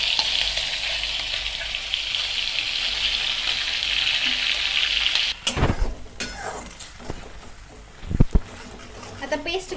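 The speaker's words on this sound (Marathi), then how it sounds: "ही पेस्ट व्यवस्थित तेलात परतून घ्यायची आहे अगदी तेल सुटेपर्यंत" Ground gravy paste fries in hot oil in a pan for a matar paneer curry: a steady close sizzle that dips after a few seconds, then stirring and scraping knocks over the continuing frying.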